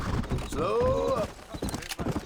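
Horse hooves clip-clop during riding in the video game Red Dead Redemption, mixed with a horse's whinny and game sounds, while a voice talks over the scene.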